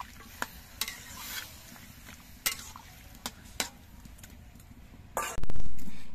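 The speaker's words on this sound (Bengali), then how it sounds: "লাউটা একবার নেড়ে চেড়ে ভালো করে মিশিয়ে নিচ্ছি" Bottle gourd with lentil dumplings stirred in a pan: sharp spatula clicks and scrapes at irregular intervals over a soft sizzle, with a cough near the end.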